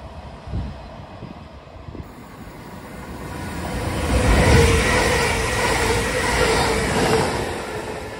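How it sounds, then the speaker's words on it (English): A non-stopping train rumbles through a station at speed, the noise swelling to a broad roar midway and then holding steady without stopping. "the approaching train is not scheduled to stop at this station"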